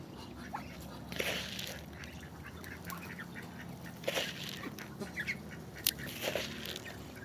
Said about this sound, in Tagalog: Doon sa loob yung mga sisiw ng pato natin.